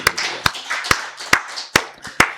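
A church congregation at a Wednesday worship service claps in unison, six sharp, evenly spaced beats close by with quiet murmuring between them.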